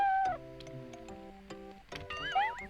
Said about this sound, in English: You found the cat.